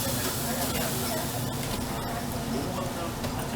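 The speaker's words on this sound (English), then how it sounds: "That sizzle's gonna be nice later." Chicken sizzles on a grill at a restaurant in Chuncheon, South Korea, making a steady, dense hiss throughout with faint background voices.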